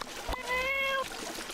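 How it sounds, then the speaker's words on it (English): A pink stray cat in the video game My Time at Portia lets out a single clear, drawn-out meow, close and prominent over a faint background. "That cat sound effect, holy crap."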